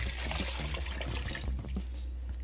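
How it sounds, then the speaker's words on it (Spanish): Water is poured into a cooking pot to cover the ingredients for locro, a steady splashing gush over a low background hum, with no talking. "Esto lo vamos a cubrir íntegramente con agua"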